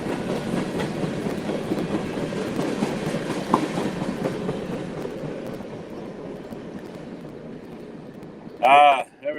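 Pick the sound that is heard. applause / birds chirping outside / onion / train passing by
train passing by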